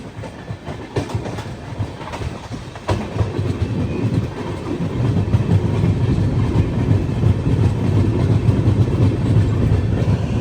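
North East Express train rolling into Kokrajhar station in Assam, with a steady clatter of wheels and carriages that grows louder and denser as it nears the platform.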